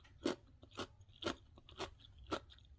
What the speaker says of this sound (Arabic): اسمعوا كده صوت القرمشة بتاعة اللفت